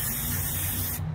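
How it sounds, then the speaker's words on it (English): Spray can painting glass jars outdoors, a continuous close hiss of aerosol paint held steadily for about a second before cutting off. "I'm just gonna quickly spray paint this other, my other jars I was working on."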